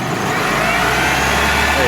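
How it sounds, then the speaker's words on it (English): A car engine revved during an alternator output test, a loud close hum that swells slightly as the revs rise, steady throughout. "if I just give the engine a little bit of a rev, you'll see that increase"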